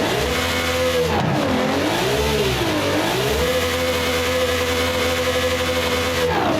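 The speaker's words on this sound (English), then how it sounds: "how does the Racing V12 sound in this car?" A Lamborghini Sesto Elemento fitted with a Racing V12 in Forza Horizon 5 revs hard, its high engine note climbing and dipping through several swells before holding a steady, loud howl.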